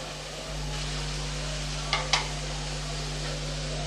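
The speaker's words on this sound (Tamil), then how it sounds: "இப்போ நம்ம பொடியாக கட் பண்ணி வச்ச தக்காளியை சேர்த்துடலாம்." Finely chopped tomatoes sauté with curry leaves in a pan for a tomato curry, giving a steady, even sizzle close by, with two brief clinks of a stirring spoon partway through. No one speaks.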